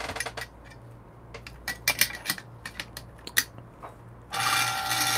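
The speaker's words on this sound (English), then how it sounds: "So we just adjust the grind size." Adjusting the grind size on a Turin DF64 coffee grinder with SSP burrs: a string of close, crisp ratcheting clicks, irregularly spaced, over a faint low hum, ending in a steady louder whir.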